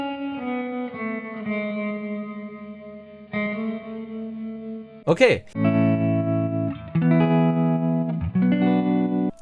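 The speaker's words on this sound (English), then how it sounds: "use this tremolo preset from the guitar rig" An electric guitar played through a Guitar Rig tremolo preset with reverb, giving sustained pulsing chords and notes that ring with echo, briefly broken by a sweeping glitchy swell; a voice speaks a single word.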